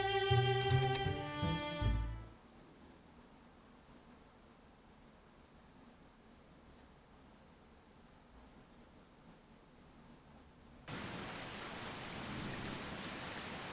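Steady rain falling on the dark streets of London in the video game Detective Butler: Maiden Voyage Murder, a soft continuous hiss that grows louder near the end, preceded by a brief burst of game music.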